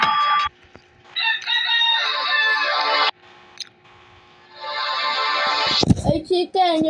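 A rooster crows twice in long, strained calls separated by a pause, followed by a brief burst of voice and clucking.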